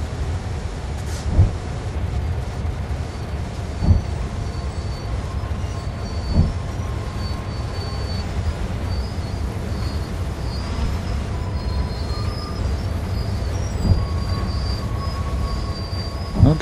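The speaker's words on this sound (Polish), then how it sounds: "Ja widzę, że lokomotywka swoje daje radę uciągnąć." Freight locomotive hauling a long rake of wagons in Train Sim World 2: a steady low rumbling drone of engine and rolling stock, with periodic rail-joint thumps and faint wheel squeal throughout, no talk.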